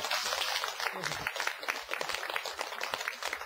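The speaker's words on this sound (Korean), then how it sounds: "뭐 이럴 때 박수 한번 쳐야죠, 이게." A lecture audience breaks into fairly faint, steady applause, a dense patter of many hands clapping for a few seconds.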